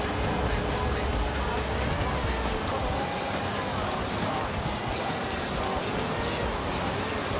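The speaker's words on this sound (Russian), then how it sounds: "Тем более дождь, у нас тут вообще шторм," Heavy rain storm in the racing game Forza Horizon 5, a dense steady wash of rain noise across the whole stretch with a low engine rumble underneath, no talk heard.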